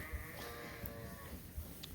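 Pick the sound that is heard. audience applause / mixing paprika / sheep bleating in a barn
sheep bleating in a barn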